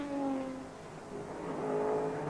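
Sports sedan race cars with 6-litre Chev engines at an Australian championship round approach from a distance, a faint rising engine drone with pitched tones that builds and shifts as the pack nears.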